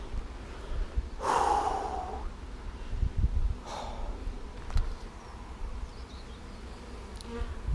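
A large bee swarm around a hive being set up with comb, a continuous near buzz of many insects with a louder surge early on and breathy handling noises, no talking.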